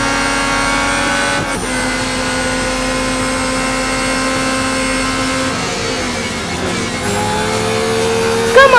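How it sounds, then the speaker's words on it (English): A Red Bull race car engine in the mobile racing game Real Racing 3 drones loudly and continuously, a dense high-revving whine with brief shifts in pitch near the end. "Another Red Bull car behind me."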